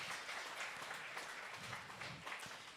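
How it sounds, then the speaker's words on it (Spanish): A church congregation claps together in warm, sustained applause lasting a few seconds, fairly distant and diffuse in a large room. "Dale un fuerte aplauso a Cristo."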